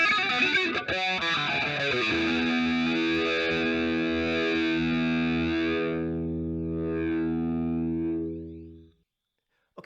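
Distorted electric guitar plays the intro riff of a song, a fast picked run settling into ringing sustained notes that fade out near the end, loud and without talk.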